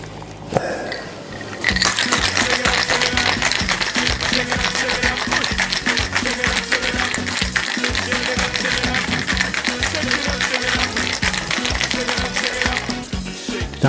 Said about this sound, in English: And we're going to give this a shake.